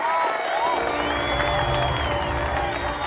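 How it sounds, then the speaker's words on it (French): A crowd at a staged show in a TV drama applauds and cheers in a brief, loud burst over sustained music. "tout le monde applaudit"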